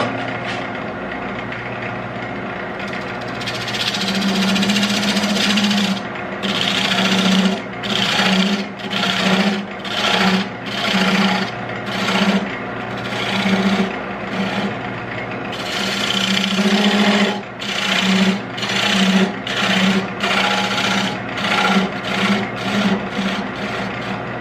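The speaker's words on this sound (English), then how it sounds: "Let me get my parting tool." A woodturning lathe cuts a square wooden bowl with a parting tool, giving a steady motor hum with repeated rhythmic bursts of rasping cutting and brief pauses between passes.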